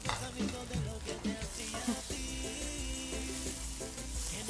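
Smoked paprika and cumin sizzling in a hot pan for vegan bean tacos, a close steady fry with a few scraping and clinking stirs.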